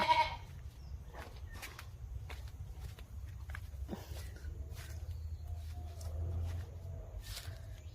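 Goats of a few different breeds, with kids among them, in an outdoor pen, bleating faintly and intermittently over low rumbling background noise, with occasional rustling and shuffling of hooves nearby.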